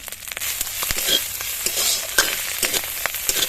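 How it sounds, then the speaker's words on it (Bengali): Prawns fry in hot mustard oil in a wok, a steady, close sizzle with crackling pops and stirring scrapes running throughout, no voices. "চিংড়ি মাছগুলো আগে ভেজে নেব।"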